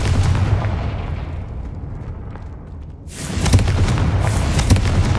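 A Confringo explosion spell blasts in the Hogwarts Legacy video game, a loud rumbling burst that fades over a few seconds before a second sharp, crackling blast erupts and sustains, with no talk over it.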